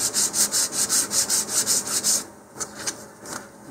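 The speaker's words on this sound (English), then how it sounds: "On mine, I'm sanding the trailing edge flat and the tip edge flat." Sheet of 220 grit sandpaper rubbing back and forth across the edge of a model rocket fin with sanding sealer, a brisk regular rhythm of about ten even strokes that then slows into a few separate, softer passes.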